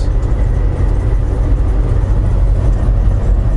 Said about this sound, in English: I think it's those little wings by the door jamb there, window post, that's making all that wind noise.